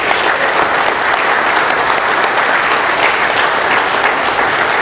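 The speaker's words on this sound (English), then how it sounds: "let's thank Sam again with one more round of applause" An audience at a meeting in Doylestown, Pennsylvania gives a speaker a round of applause, a loud, dense wash of many hands clapping steadily for about five seconds with no talk over it.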